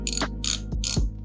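Ratchet wrench tightening a wheel nut on an off-road buggy, three quick bursts of close, rapid clicking separated by short pauses.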